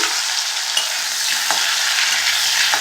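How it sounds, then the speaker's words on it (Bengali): Potatoes cut into long strips fry in hot oil in a pan, a loud constant sizzle up close with a few soft stirring knocks. "লম্বা লম্বা করে আলুগুলো ভেজে নিচ্ছি"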